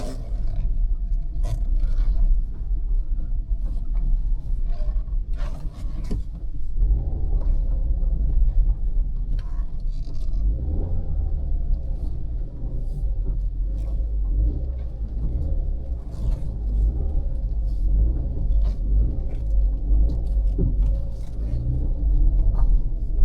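Hyundai i20 Elite engine straining in reverse up a steep, narrow forest road in Shimla, a loud continuous low rumble that swells and holds with occasional revving, no talking.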